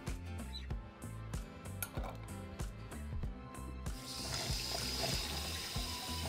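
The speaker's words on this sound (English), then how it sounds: "we're going to add that to a pan and cover with cold water" Cold water running from a tap into a pan of small diced potato pieces, a close, steady splashing stream that deepens into a fuller, hissing pour as the pan fills.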